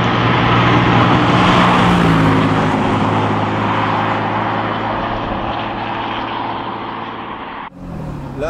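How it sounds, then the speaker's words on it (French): A Porsche 997 MKII Carrera fitted with a SCART exhaust drives at an easy pace through a village, its loud, steady engine and exhaust note reflecting off the houses, then the sound drops and changes abruptly near the end. "les maisons permettent vraiment de bien entendre l'échappement"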